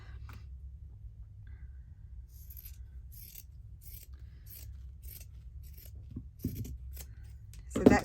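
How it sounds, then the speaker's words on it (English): Scissors snip the borders off a papercraft piece in a quiet room, with soft scattered cuts and a low background hum, ending in a couple of louder clipped snips near the close. "So I'm going to cut the borders off."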